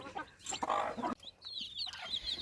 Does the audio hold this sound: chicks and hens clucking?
yes